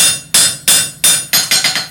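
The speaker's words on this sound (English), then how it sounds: "with the correct smithing stance and a 1 3/4 pound hammer, you can move quite a bit of material" A 1 3/4 pound blacksmith hammer strikes hot 5/8 square steel six times in steady succession, loud sharp ringing blows quickening toward the end, with no talk.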